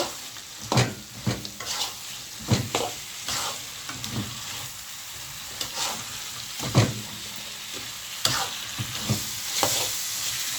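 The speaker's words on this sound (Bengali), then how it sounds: "এখন মাছগুলো দিয়ে দেবো। এগুলো একটু ভালো করে নেড়ে নেব।" Fish being stirred into a fried onion and tomato masala, a continuous close sizzle punctuated by repeated scraping spoon strokes against the pan at irregular intervals.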